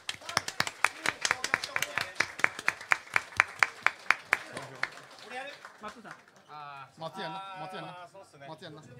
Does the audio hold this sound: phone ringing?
no